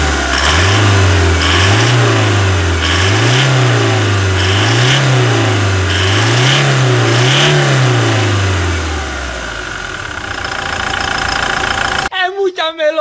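A 2019 Toyota Hilux engine revs loud and close in repeated rising-and-falling pulses for about nine seconds, then settles toward idle before a brief burst of something else at the end.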